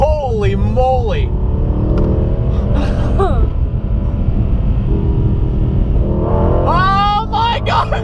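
A Mercedes-AMG E63S launching hard, a loud continuous engine roar and rumble from inside the car, with excited voices and gasps over it at the start and end.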